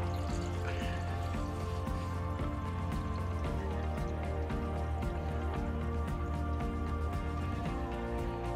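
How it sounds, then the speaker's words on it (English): Water drains from a full bathroom sink beneath the basin, a steady trickling and gurgling flow with scattered drips, continuous and fairly quiet throughout, no talking. "The sink is still draining and we have no more leakage here"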